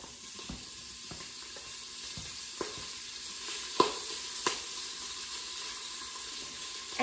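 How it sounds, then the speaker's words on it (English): Bacon sizzles faintly in the inner pot of a Pampered Chef Quick Cooker, a steady soft crackle with scattered sharp pops and occasional clinks, no voices. "I'm going to add the bacon to start cooking next"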